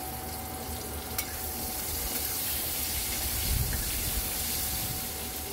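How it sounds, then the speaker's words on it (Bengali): Vegetable stalks fry with potatoes in a pan for a Bengali prawn and pui shaak dish, giving a steady, close sizzle with soft stirring scrapes and a faint clink, continuous and without talk. "এই ডাঁটাগুলো আলুর সাথে ভেজে নেব"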